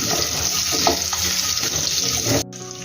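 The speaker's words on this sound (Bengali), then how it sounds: "কড়াইয়ের মধ্যে তেল আছে, এই তেলেই আমি আলুগুলো ভাজা করে নেব" Potatoes sizzle steadily in hot oil in a wok, a dense continuous frying hiss with small pops and stirring scrapes that cuts off abruptly near the end.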